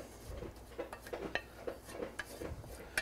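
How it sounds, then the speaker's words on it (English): A spoon stirring a reduced concentrate into gumbo stock in a metal pot, with light scraping and a series of sharp clinks against the pot rim at an uneven pace, quiet and close, with no talking. "Just gonna stir that in real good, thin it back out."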